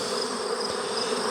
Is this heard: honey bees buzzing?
yes